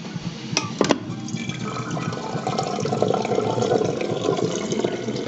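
Water pours steadily into a bottle, a continuous close rushing fill with a couple of brief clinks near the start, growing slightly fuller in tone toward the end.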